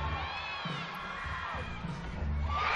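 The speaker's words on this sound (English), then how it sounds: "the crowd goes wild" Arena crowd cheering and shouting after a gymnast's dismount at a college gymnastics meet, a broad roar that rises toward the end, with whistles and scattered voices.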